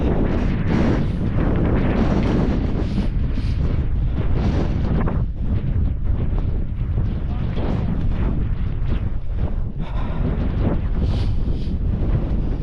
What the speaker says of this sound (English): Never known wind like it.